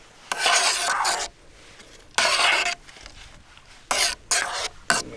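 A small spoon stirs a camping meal pouch filled with water at a lakeside solo campsite, giving several separate bursts of scraping, rustling friction, each lasting about a second, with short quiet gaps between them.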